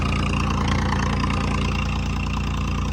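A high-speed tractor engine runs steadily at idle-like revs, a dense, continuous rumble with a low, regular knock and no pauses or voices.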